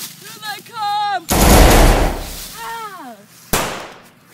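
Loud blasts of gunfire in a war movie battle charge, two sharp bursts with a long roaring decay, mixed with shouting voices and a whistling call.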